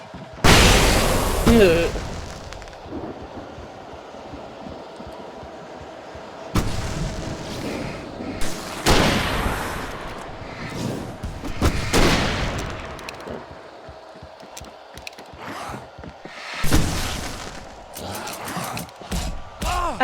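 Gunfire in Alan Wake Remastered, several loud separate shots and booming blasts spaced irregularly through the stretch, with a grunting voice near the start.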